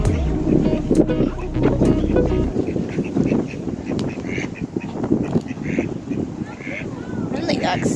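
Ducks being fed bread at a pond quack a few times in the middle distance, partly masked by wind noise on the microphone and by people talking nearby.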